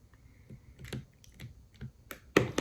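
A rotary cutter slices quilt fabric strip sets into 4-inch segments, heard as a handful of sharp close clicks and taps at irregular intervals, the last one loudest, with no talking.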